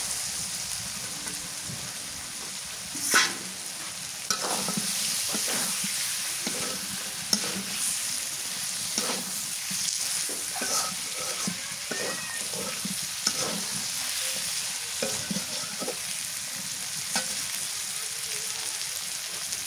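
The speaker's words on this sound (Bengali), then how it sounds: "আমি তো ভাজা মুরগির মাংসটা দিয়ে দিই" Pieces of fried chicken are stirred in a hot pan, giving a continuous crackling sizzle. Scraping clicks from the spoon recur at an irregular pace throughout.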